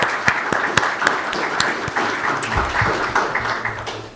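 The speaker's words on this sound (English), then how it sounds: "Let's give a round of applause to show appreciation to these mentors, Tasia Gordon, Angelina Billow, and Dr. Tim" An audience at a university startup challenge event claps for the mentors, a dense round of applause from a crowd with sharp individual claps standing out, steady throughout.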